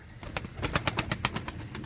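Feleksiz white pigeons nearby, with a quick, rhythmic run of fluttering beats and soft calls, fairly quiet.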